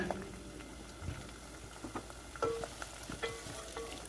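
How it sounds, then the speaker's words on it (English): Onions fry in oil in a pan, a faint, steady low sizzle with occasional soft stirring clicks and scrapes close by. "Using the same oil, you're going to fry your onions"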